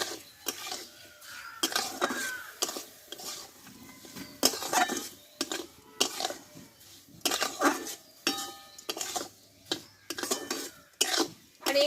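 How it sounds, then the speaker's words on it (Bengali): Raw mango pickle being stirred in a pan as sugar slowly melts, the spoon scraping and clinking against the metal in steady, repeated strokes, close and moderately loud with brief pauses between. "আমি ভালোভাবে নাড়তে থাকবো আর চিনিটা কিন্তু আস্তে আস্তে গলতে থাকবে"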